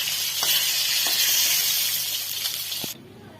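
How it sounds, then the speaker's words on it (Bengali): Pieces of lailontika fish frying in hot oil in a pan, a steady bright sizzle with a few small pops and stirring clicks that cuts off abruptly near the end, leaving faint background hiss. "তো মাছটা আমরা দুবারে ভাজবো, তাই প্রথমবারে কয়েকটা পিস দিয়ে দিলাম"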